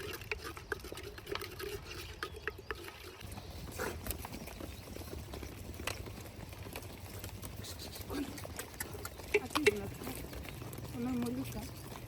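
Ash and water being stirred into a thick mixture in a cooking pot, with soft, irregular liquid churning and scraping under steady background noise and nearby talk.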